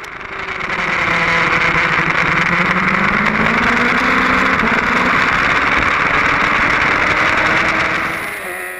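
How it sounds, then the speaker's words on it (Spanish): A BMW S1000RR racing motorcycle engine roars continuously at high revs on the Jerez circuit during a race, loud and close, its pitch rising and shifting as it speeds down the back straight. "Nos subimos otra vez en mi moto"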